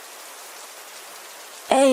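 Steady rain hiss fills nearly two seconds at moderate level, as heard by lost mountaineers caught in a downpour at night, before a sudden louder tonal sound cuts in at the end.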